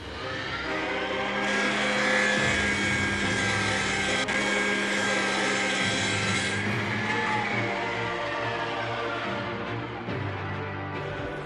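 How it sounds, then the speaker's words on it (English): A miter saw fitted with a standard wood-cutting blade cuts aluminum pieces to length, giving a loud, continuous whining grind with a high metallic rasp that holds steady for several seconds and then winds down, with no voices present. "I just cut the pieces to length at the miter saw using a standard wood cutting blade."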